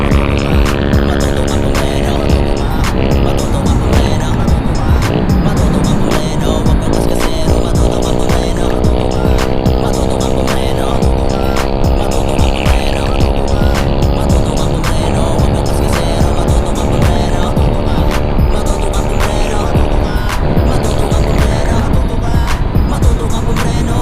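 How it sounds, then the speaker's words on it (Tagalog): A motorcycle engine drones steadily and loudly from close by on a night ride along the Marilaque road, its pitch climbing and settling as the rider works the throttle, with no talk over it. "Lakas na talaga ng motor niya."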